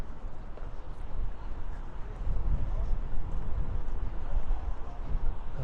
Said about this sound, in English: Oh, it's getting windy, cold.